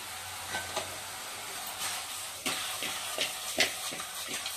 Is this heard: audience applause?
no